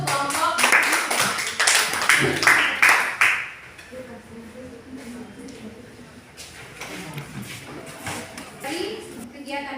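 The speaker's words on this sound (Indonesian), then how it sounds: "Tepuk tangan dulu untuk kelompok." Classroom students clap for a group in a burst of quick, uneven hand claps that fades after a few seconds, followed by a voice talking.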